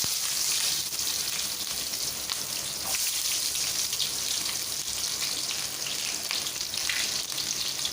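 Onions sizzle and crackle steadily in hot oil for chicken biryani, a loud, dense frying hiss that holds at an even level from start to finish with no talking over it.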